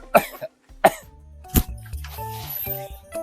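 A man in a rural comedy sketch coughs harshly three times, roughly a second apart, each a sharp burst; a sustained tonal sound follows the last cough.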